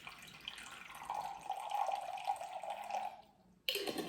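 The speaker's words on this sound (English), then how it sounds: "I'm adding 100 grams of water." About 100 grams of water trickles into a container for a sourdough starter, a soft, steady pour lasting a few seconds, then a brief silence before a short burst of noise.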